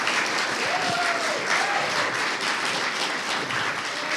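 An audience at a Ukraine business keynote applauds entrepreneurs and founders, a steady dense roar of clapping filling the room with a faint voice briefly rising over it.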